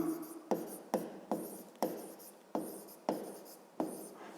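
Hand writing on paper for a fifth-grade division exercise: repeated pen strokes scratch across the page in short bursts, about seven distinct strokes at a steady rhythm, close and fairly quiet, with no voice over them.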